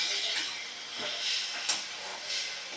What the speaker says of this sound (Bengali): এবার 1 চামচ টক দই দিয়ে দিলাম। ভালো করে মশলা কষিয়ে নিচ্ছি।